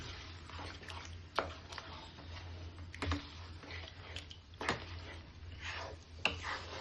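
Egg bhujia made with six beaten eggs fries over high gas in a pan, giving a low steady sizzle broken by irregular sharp clicks and scrapes as it is stirred.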